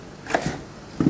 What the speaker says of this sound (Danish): Vi har hakket diverse grøntsager.